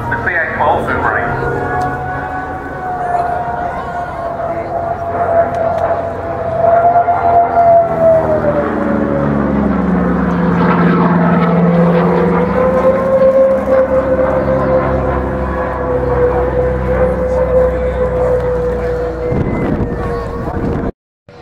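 A CA-12 Boomerang warbird fighter passes at an air show, its distinct whistling engine tone rising and falling in a long sustained sweep that builds and fades over about twenty seconds, with wind buffeting and faint voices underneath.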